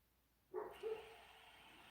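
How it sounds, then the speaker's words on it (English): A dog barks a couple of times at a distance, faint yips rising over a quiet indoor background with no talking. "Duke has been barking all day"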